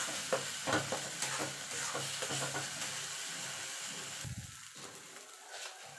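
Flat bean paste simmers and sizzles in a pan while being stirred until its water boils off, with a steady frying hiss and repeated scraping strokes.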